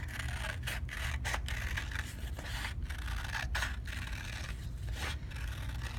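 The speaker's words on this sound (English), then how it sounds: "I'm going to cut it out as best I can on the line." Scissors snip through paper while cutting out a circle, with close, steady crunching strokes repeating in an uneven rhythm, no voices.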